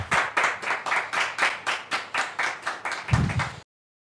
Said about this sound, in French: très cher public, on peut dire merci à Dieu par des applaudissements?